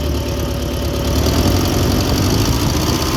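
Engine running loud and close on a conventional charging system setup as its RPM is raised, a dense continuous mechanical drone with a slight rise in intensity midway, no voices.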